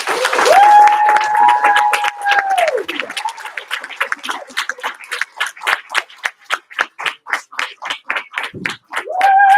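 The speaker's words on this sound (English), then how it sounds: "Give him a big round of applause." Applause for a student earning his white belt in a martial arts class, a small group clapping in a steady, rhythmic run of close, distinct claps after a long whistle-like tone near the start.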